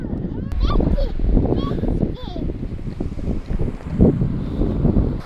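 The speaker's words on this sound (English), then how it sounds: "It's a windy day" Steady wind buffeting the microphone outdoors on a beach at Fort De Soto, Florida, a constant rushing roar with children's voices and chatter mixed in throughout.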